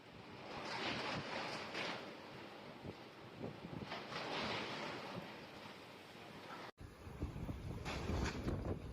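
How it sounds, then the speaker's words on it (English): Hurricane-force storm winds whip around a suspension bridge, a loud, continuous roar of wind buffeting the microphone with surging gusts, with no talking over it. "bridge got caught in the storm and was whipped around by the hurricane-like winds"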